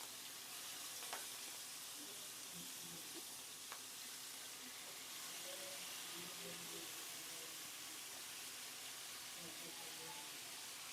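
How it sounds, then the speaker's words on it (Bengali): Fresh, fairly large prawns fry in cold-pressed mustard oil with a soft, steady sizzle and hiss, faint and continuous, with a few light clinks of stirring. "একদম অরিজিনাল ঘানি ভাঙা সরিষার তেলের মধ্যে চিংড়ি মাছগুলা দিয়ে দিচ্ছি।"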